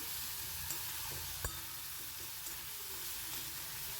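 Green chilli tempers in hot oil with ginger paste for a bottle gourd and fish head dish, a faint, continuous frying hiss with a single brief knock, no voices.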